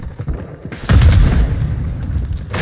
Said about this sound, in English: set the charge on the target and detonate